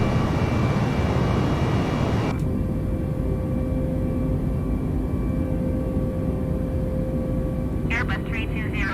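An Airbus A320neo airliner climbs after takeoff in Microsoft Flight Simulator, a loud broadband engine roar that abruptly drops to a steadier hum with a thin tonal whine.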